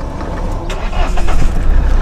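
A 2013 Mahindra Scorpio SUV engine turns over and settles into a steady running rumble, close and fairly loud, swelling slightly partway through.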